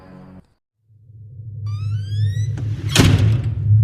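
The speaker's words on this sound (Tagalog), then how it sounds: "naglalakad sila sa bahay nang narinig nilang biglang sumara yung pinto" A house door suddenly slams shut with a sharp, loud bang near the end, preceded by rising rumble and a creaking, whistling sweep, in a staged radio-drama scene.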